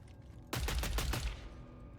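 Rapid burst of submachine gun fire with incendiary rounds in the game Killing Floor 3, a loud close stream of shots lasting about a second before trailing off into a lingering tail.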